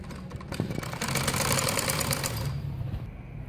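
A sewing machine stitches gharara fabric with a fast, continuous mechanical whirr and clatter, steady and close, easing off near the end.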